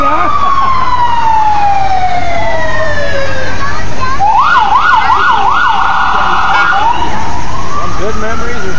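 A loud ambulance siren rolls through a festival parade, first a descending wail, then rapid yelp cycles, then rising wail again, with crowd noise and voices underneath.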